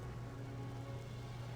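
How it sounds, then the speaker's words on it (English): A rainstorm at sea in the naval game Pirates of the Burning Sea, heard as a steady, soft hiss of falling rain with a low constant rumble beneath, faint and unbroken. "The rain worsens, becoming a storm."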